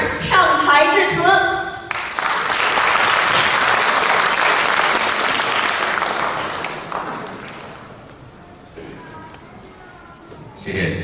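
An audience at the opening of an international arts festival and Yue opera showcase breaks into loud, sustained applause as the consul general takes the stage. The clapping fades after several seconds, and a voice is heard at the start and end.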